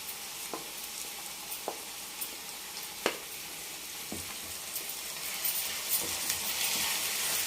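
Tomatoes and green chillies fry with ginger-garlic paste in a pan for mushroom biryani, giving a steady hiss with a few sharp clinks of a utensil, the sizzle swelling slightly toward the end; no one speaks.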